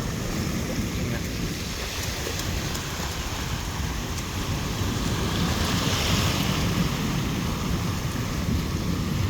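Sea waves breaking around an island out at sea, a continuous loud wash of surf with wind buffeting the microphone throughout.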